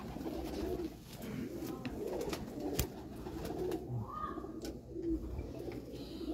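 A pigeon coos in soft, repeated low calls on a rooftop loft, fairly close and alone, with faint background ambience and a sharp knock midway.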